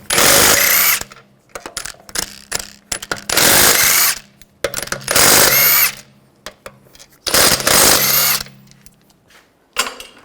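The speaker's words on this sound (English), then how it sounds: "Use a 17mm socket. Take the lug bolts out." A power tool fitted with a 17mm socket spins out lug bolts from the rear wheel of a 2009-2010 BMW 535i xDrive, giving four loud, close bursts of whirring and rattling impacts separated by brief pauses and handling clatter.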